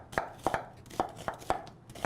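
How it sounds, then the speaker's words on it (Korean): A knife chopping an onion into chunky pieces on a cutting board, with about seven sharp, evenly spaced cuts over two seconds, close and fairly quiet, with no voices. "그리고 양파 이렇게 썰어주세요."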